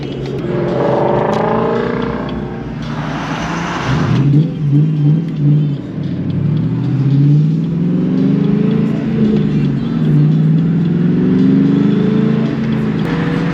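A New Edge Ford Mustang is driven hard, its engine roaring close and loud inside the car, revving up, dropping through shifts and climbing again in sustained surges over about thirteen seconds.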